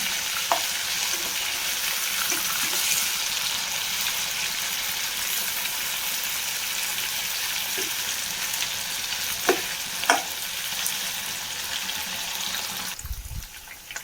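Chicken pieces fry in oil for a dry roast, a loud continuous sizzle with occasional stirring knocks and clinks, ending in a short low thud.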